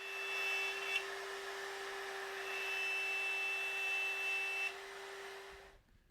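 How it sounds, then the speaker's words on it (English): A multi-router cuts mortises into long wooden stiles for a three-panel screen, producing a sustained, steady high-pitched whine with a brief bump near the start. The tone drops at the end as the machine winds down and stops. "To cut the mortises, we use the multi-router."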